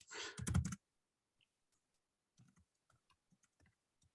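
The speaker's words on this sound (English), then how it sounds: "Let's try typing." A short burst of noise, then sparse, quiet clicks of keys being typed on a keyboard, close by in a near-silent room.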